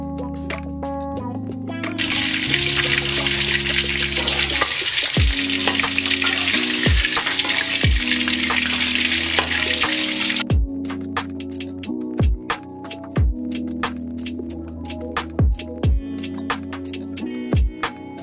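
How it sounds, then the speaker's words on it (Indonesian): Ebi furai (fried shrimp) sizzles and crackles loudly in hot oil for several seconds, with plucked music notes playing before and after the frying. "kita baru goreng pas minyaknya udah panas ya, biar nanti nggak lengket ke wajannya"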